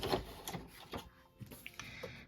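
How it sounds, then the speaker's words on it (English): An embroidery machine stitches a placement line onto clear vinyl, giving a quiet run of short mechanical taps and whirs with uneven rhythm, close by and fairly faint, no voices. "Now it is going to stitch the placement line for the bottom of the machine"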